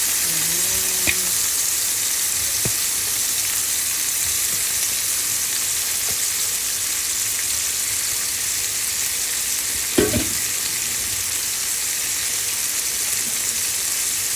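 Sliced bitter gourd (ampalaya) frying in a pan, a steady loud sizzle that goes on throughout, with occasional faint clinks and stirring taps from a utensil.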